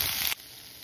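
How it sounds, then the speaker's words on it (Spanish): Onion frying in a pan for a healthy breakfast, a broad steady sizzle that cuts off abruptly after a third of a second, leaving faint hiss. "A mí me encanta la cebolla, así que la verdad le estoy echando bastante cebolla."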